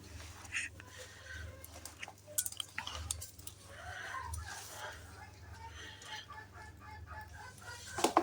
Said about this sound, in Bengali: মুরগি কিন্তু এগুলো অনেক মজা করে খায়।